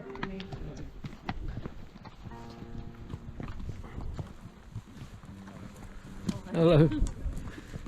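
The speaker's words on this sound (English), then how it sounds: "People riding their ponies, or ponies, horses." Ponies and horses being ridden along a countryside trail make steady clip-clop hoofbeats, fairly close and mixed with outdoor wind noise, while someone briefly greets the riders.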